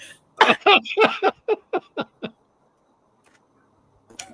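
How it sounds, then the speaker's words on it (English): A burst of repeated coughs, about eight sharp hacks in quick succession that taper off, followed by silence and a brief sound at the end. "that made me cough"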